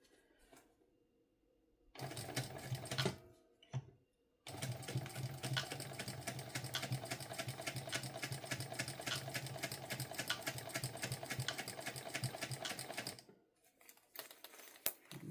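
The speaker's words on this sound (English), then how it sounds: "we are ready to sew on the other side of the zipper gusset." A sewing machine stitches the zipper gusset of a sling bag in a rapid, steady mechanical whir of close stitching runs, with brief pauses between bursts and no talk.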